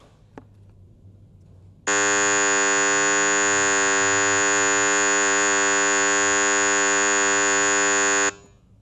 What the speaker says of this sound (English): let's have a listen to the digital test tone that was generated